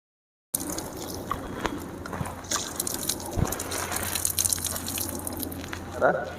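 Water from a mug splashes and trickles over a fabric body cover on a Tata Nexon bonnet, a steady close wash of liquid with small drips and patters lasting several seconds.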